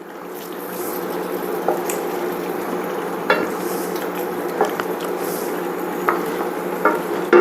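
Sweet sausage with a pinch of salt being stirred in a pan, a steady low sizzle with occasional scraping clicks of the utensil against the pan.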